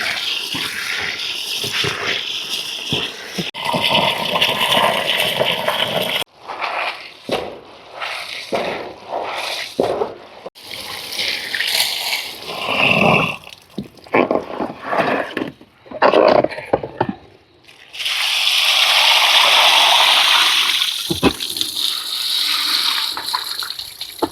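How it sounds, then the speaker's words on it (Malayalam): Coriander seeds being washed by hand with poured water in a home kitchen, loud splashing and gushing in long bursts with brief pauses, no talk. "മല്ലി നന്നായിട്ട് വെള്ളം ഒഴിച്ച് നല്ലപോലെ കഴുകണം"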